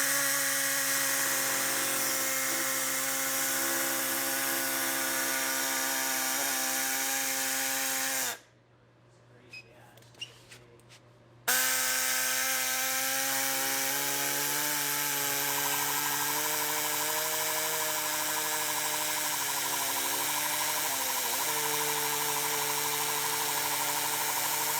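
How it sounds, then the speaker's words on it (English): Power tool whines at high speed while trimming a car dashboard to fit a roll cage, with a sustained buzzing drone that cuts off for a few seconds, then resumes and wavers in pitch. "So now I'm gonna go ahead and start trimming the dash out."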